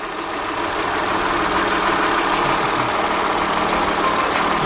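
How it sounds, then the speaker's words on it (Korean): A Hyundai Grandeur TG idles with its engine running steadily and loud up close, a continuous mechanical hum with a faint rattle from underneath. "저 밑에서 약간 달그락거리는 소리 같은 게 나잖아요"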